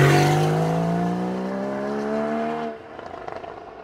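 Porsche Boxster Spyder engine and exhaust, a loud flat-six roar with a smooth rising pitch under acceleration, close by, that suddenly cuts off into quieter road noise.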